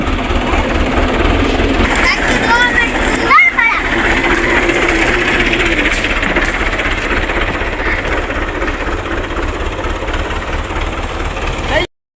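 A farm tractor engine thumps steadily up close while riding on its trolley, a constant rattling, chugging idle-like drone, with brief voices over it before it cuts off abruptly.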